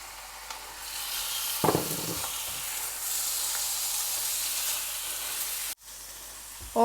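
Chicken sizzles loudly in a pan with sautéed onion, garlic and ginger for a stir-fry noodle dish, a continuous bright hiss broken by a few stirring scrapes and a brief dip before the sizzle resumes.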